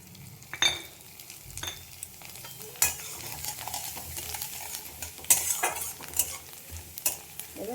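Gobindobhog rice fries in oil with a cumin tempering, a low sizzle broken by repeated sharp scrapes and clinks of a spoon stirring the pan, close and uneven in rhythm.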